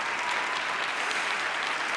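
A steady, full round of audience applause honoring a young boy's parents at a gathering, loud and even throughout without any voices.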